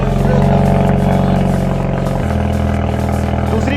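A loud Polo GTI engine revs hard and steadily, its deep rumble shifting pitch partway through as the throttle changes, close by with no talking.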